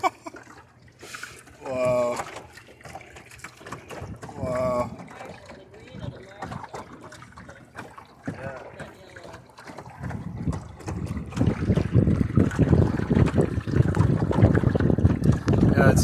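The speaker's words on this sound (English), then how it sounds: "I'd say we got a perfect breeze for the first sail here." An Alpha Beachcomber sailboat on its first sail in a fresh breeze: wind buffets the microphone and water rushes along the hull, growing louder and steadier in the second half, while people talk in the first part.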